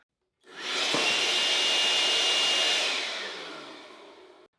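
A Ryobi 18V cordless handheld blower runs in one steady, loud burst of rushing air held close against a box, lasting about three seconds before it winds down and trails off.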